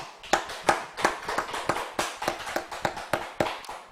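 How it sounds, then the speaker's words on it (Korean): A small church congregation at a Friday late-night prayer meeting claps in a sparse, loosely rhythmic pattern, individual claps standing out clearly at a quiet level with no talking over them. "하나님께 우리 영광의 박수 올려드리겠습니다"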